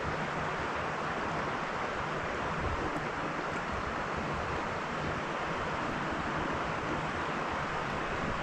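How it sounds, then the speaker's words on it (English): Water heating toward a boil in a Kelly Kettle by a river makes a steady, broad rushing hiss, continuous and fairly soft outdoors, with no talking. "You can hear it starting to boil in water already."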